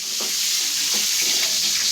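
Sambar onions hit hot oil already holding mustard seeds and curry leaves, producing a strong, steady close sizzle with light stirring scrapes throughout.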